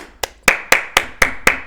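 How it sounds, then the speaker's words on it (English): Six sharp claps from one person, close and loud, the first alone and the other five coming at an even, steady pace with no voices. "Can we get a round of applause?"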